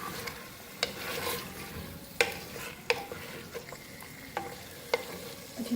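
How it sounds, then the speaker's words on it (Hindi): Capsicum mutton is stirred in a sizzling pan, with a constant frying hiss under repeated sharp scrapes and clicks of a spoon against the metal at an irregular pace, close up and without speech. "अच्छी तरह से मिक्स कर लिया।"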